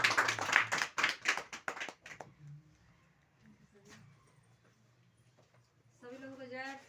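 At a marketing plan meeting, an audience claps for someone speaker in a burst of sharp, close claps lasting about two seconds. Quiet room noise follows, then a voice speaks.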